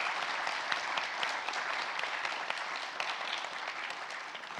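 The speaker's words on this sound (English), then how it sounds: "I really want to give a big round of applause to our panelists." Audience applause for panelists at the close of a meeting session, a steady dense patter of clapping from a room of people, moderately loud and continuous.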